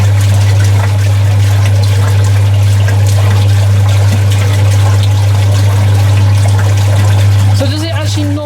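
A washing machine filling with water, a steady rush of flowing water over a loud constant low hum, with voices talking near the end.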